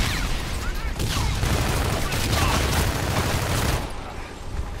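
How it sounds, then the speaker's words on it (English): Grenade blasts from a video game set amid a chaotic raid, a dense, sustained roar of explosions and gunfire-like bursts filling the scene loudly before easing off near the end. "I'm just throwing all the grenades"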